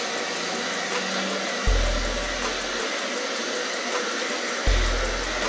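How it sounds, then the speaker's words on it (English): A hair dryer blows steadily on plastic window insulation film from a Dollar Tree kit, a loud continuous whir with two brief bumps in motor pitch, no talking. "start blow drying a little"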